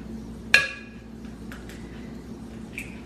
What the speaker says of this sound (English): now I'm going to crack my eggs.